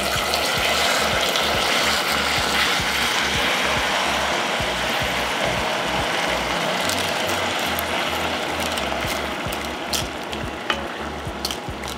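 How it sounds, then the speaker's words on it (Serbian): 300 ml of water goes into brown caramelized sugar in a hot pan, and the sugar hardens: a continuous dense crackling sizzle with rapid ratchet-like popping that runs steadily and close for the whole stretch, with no speech. "Vidjeli ste kako se šećer stvrdnuo dok sam sipala vodu"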